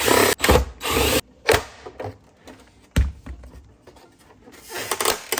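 Screws being removed from a Subaru Legacy tail light with a power driver. Loud whirring bursts alternate with clicks and short quiet gaps, up close.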